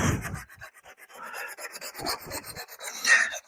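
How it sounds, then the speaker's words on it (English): Rasping sandpaper strokes work over a wooden table coated in epoxy, a soft scratchy rubbing repeated at close range and fairly quiet, with no talking. "Just want to sand this."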